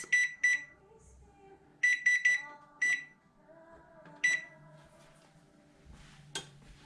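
An oven control panel beeps in short high tones, a double beep, a triple beep, then single beeps, set against quiet kitchen clatter and a low hum.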